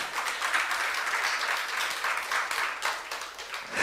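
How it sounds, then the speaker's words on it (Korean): A church youth group congregation applauds toward God during a sermon, a steady moderate wash of many hands clapping that holds evenly without pause. "믿는 사람만 박수를 하나님께 올려주시기 바래요"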